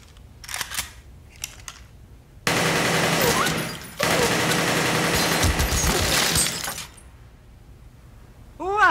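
Bursts of rapid automatic gunfire from an AK-47 assault rifle crack loudly in two long volleys, preceded by a few short clicks and followed by quieter rattling.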